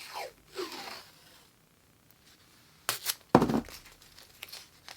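Painter's tape being torn from a roll in a wood-craft workshop, giving one sharp ripping tear followed by a shorter crinkling rip, close and fairly loud after a few quieter rustles.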